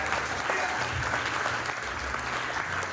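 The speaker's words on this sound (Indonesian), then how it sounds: "tepuk tangannya jangan nanggung, tepuk tangan yang benar, saudara" Church congregation clapping hands during a worship service, a dense, steady applause filling the room throughout, with a low hum or music underneath.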